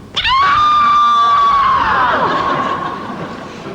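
A single long, piercing scream rings out loud and close, holding a steady high pitch for over a second before sliding down and trailing off into a noisy, reverberant tail.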